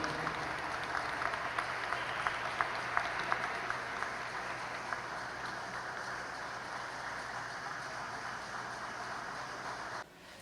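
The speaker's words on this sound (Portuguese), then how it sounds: "Aplausos do público presente." Steady applause from an audience at a community talk, a dense even wash of clapping that stays constant for about ten seconds before cutting off.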